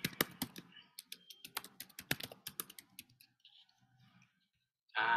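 Quick, crisp keystrokes on a computer keyboard as an email address is typed in, a close burst of uneven clicks that thins out and stops before a final louder noise.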